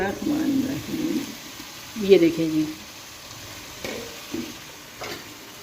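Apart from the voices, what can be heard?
stirring karela gosht curry with a spoon while cooking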